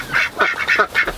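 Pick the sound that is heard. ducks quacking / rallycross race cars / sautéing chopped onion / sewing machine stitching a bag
ducks quacking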